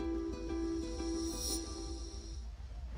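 Steady hiss of Pepsi Zero Sugar cola fizzing, a constant bright effervescent crackle with faint tonal hum underneath, close and continuous for three seconds with no talking.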